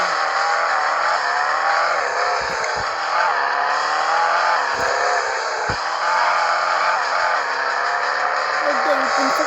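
Engine of a Cyber Truck in the Extreme Car Driving video game, a steady loud drone with revving swells and brief thumps of crashes, heard throughout under a dense layer of game sound.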